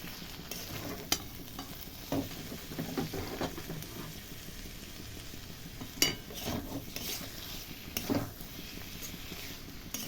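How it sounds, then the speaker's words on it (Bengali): Spoon stirring banana flower with prawns, sugar and ghee in a hot pan, a steady soft sizzle with scraping strokes and a few sharper clinks, close and alone. "এবার আমি এর মধ্যে সামান্য একটু চিনি দেব আর ঘি দিয়ে নেড়ে চেড়ে নামিয়ে নেব"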